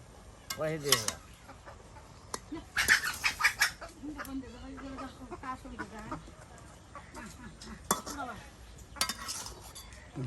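Gourd leaves are stirred and turned in a cooking pot, with scattered metallic scrapes and clinks of utensil against pot, while people talk and chickens cluck nearby in a village setting.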